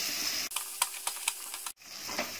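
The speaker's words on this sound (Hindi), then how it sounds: "मिक्स करते रहेंगे ताकि अदरक नीचे नहीं चिपके। और ये सब मसालों को अच्छे से भून लेंगे।" Spices, ginger and green chillies stirred and fried in a pan: a hissing sizzle with several quick scraping strokes of a spoon, a short gap, then the sizzle resumes.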